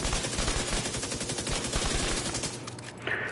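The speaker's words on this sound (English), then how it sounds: "And then I just gunned them down." Rapid SMG bursts in The Division 2, loud and close, firing in a fast, continuous rattle that stops near the end.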